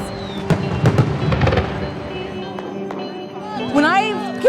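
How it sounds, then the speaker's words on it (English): Fireworks set off at the Dai New Year water-splashing festival in Xishuangbanna, with a loud cracking burst near the start followed by fizzing and crackling, mixed with crowd noise and voices. "Everything's just better with fireworks."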